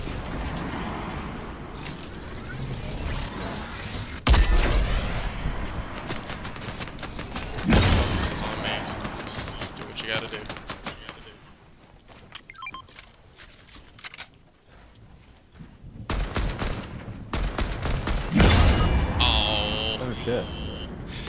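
Bursts of video game gunfire crack out repeatedly as players fire at an enemy, with sharp shots spread across the clip and frequent talk from several people over them.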